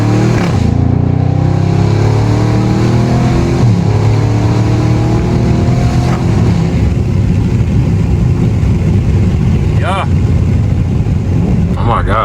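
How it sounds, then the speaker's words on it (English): A Dodge Charger Scat Pack V8 engine roars loudly and steadily through a wooded stretch, its revs rising and falling through bends, with people talking over the engine noise. "Had this V8 screaming through the woods real quick"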